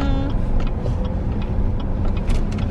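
A car driving along, with a steady low road and engine rumble close by inside the cabin and faint ticking over it.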